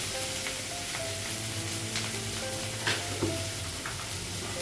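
Spices frying in a pan in a home kitchen: a steady close sizzle with occasional stirring scrapes and clinks throughout.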